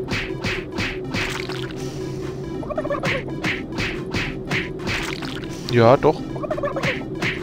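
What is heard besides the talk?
turkey gobbling in Super Turbo Turkey Puncher 3, Doom 3 video game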